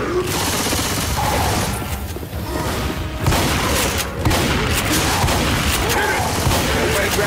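Gunfire in Left 4 Dead 2, loud dense volleys of rapid shots and booms running almost without pause, with voices shouting amid the shooting.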